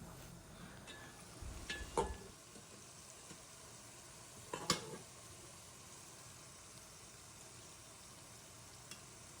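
Powdered spices such as turmeric, chili and coriander hit hot oil in a pan for a fish and cauliflower curry, a soft steady sizzle with two brief louder crackles as they are stirred in.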